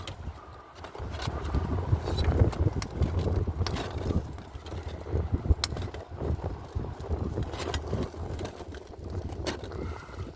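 Wind buffets the microphone outdoors beside a homemade buddy burner, a steady rumbling roar with scattered clicks and rattles, no talking.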